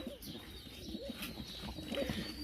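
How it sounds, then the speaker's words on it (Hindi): Breeding pigeons in a home loft coo softly in repeated low, throaty phrases, with several calls overlapping against quiet background noise. "27 नंबर कबूतर है"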